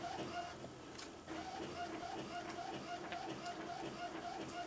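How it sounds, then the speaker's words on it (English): An inkjet-style printer runs a high-quality print job on the front of an invitation card, its carriage sweeping back and forth in a steady repeating rhythm of whirring and clicking passes, close and moderately loud with no talk. "We're going to print there on the front of the invitation."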